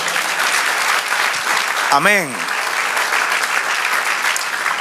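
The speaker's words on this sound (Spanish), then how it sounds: "Denle el aplauso al Señor." A church congregation applauds steadily throughout, a dense, even wash of clapping that fills the room, while a man briefly calls out a single word partway through.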